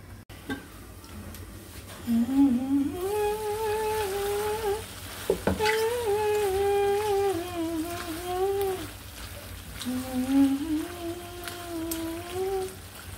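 Curry being sautéed in a home kitchen pan, a soft continuous sizzle with occasional clicks, while a voice carries on over it for most of the time.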